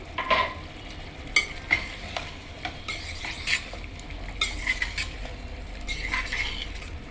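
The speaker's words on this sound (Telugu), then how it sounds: "టమాటా వేస్తున్నాను" Chopped tomatoes go into hot oil in a pan for a mushroom curry and fry with a steady sizzle, while a spoon scrapes and stirs in repeated close clinks.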